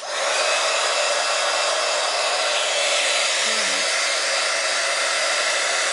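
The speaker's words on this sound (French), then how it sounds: "donc là je vais venir sécher un petit peu quand même mes deux cartes" Heat tool blowing steadily over watercolour cards with embossing powder, a loud, close, continuous whooshing hum that holds evenly for the whole stretch with no talking.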